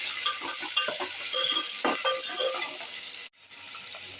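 Onions sautéing in a pan for Tamil mutton kulambu, a close, steady sizzle with scraping stirs and light clatter, briefly dropping out near the end before resuming.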